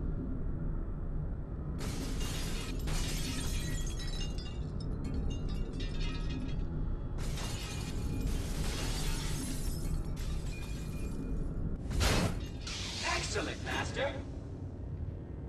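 Glass panels shattering in Star Wars: The Force Unleashed, with several loud bursts of breaking glass and crashes over continuous game background sound.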